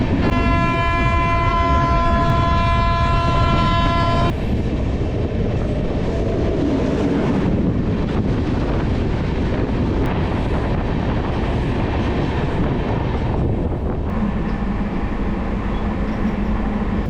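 A train rumbles loud and close past a railway level crossing gate, sounding a long steady horn at the start, then a continuous roar of wheels and wagons with wind buffeting, seemingly heard from aboard the Chhattisgarh Express.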